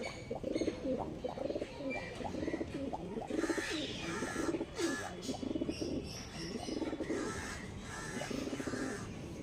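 Pigeons of the Andhra breed, a male and a female, coo repeatedly in rolling, throaty phrases close by, the calls overlapping in a steady rhythm throughout with no speech.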